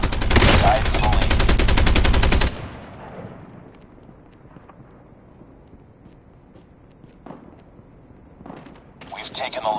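Loud bursts of automatic gunfire in a Call of Duty Mobile match fill the first couple of seconds, then give way to quieter game ambience with faint scattered clicks and a louder swell near the end.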